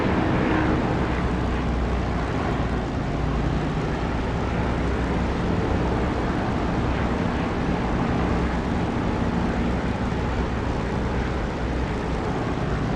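A Spitfire's piston engine in the DCS flight simulator, a dense, steady broadband roar that holds loud and unbroken throughout, with no voices over it.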